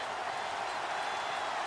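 Football stadium crowd in Jacksonville roaring steadily as fans rise to their feet, a dense, continuous wash of cheering and clapping with no breaks.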